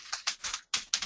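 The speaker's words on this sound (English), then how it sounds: "we can hear your typing" Keys clatter on a computer keyboard in quick, uneven bursts of close, crisp taps, broken by a short pause.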